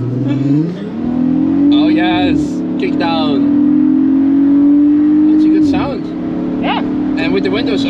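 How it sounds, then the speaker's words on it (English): A VW Atlas engine and exhaust drone steadily and rise under hard kick-down acceleration with the windows open, loud and close, while people talk over it throughout. "we know that the sound is coming from the exhaust and not from the speakers"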